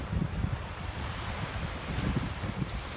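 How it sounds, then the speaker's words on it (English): Small waves washing onto a Mississippi beachfront sheltered by a barrier island, a steady low surf rumble mixed with wind noise on the microphone. "That's why the waves aren't very big here."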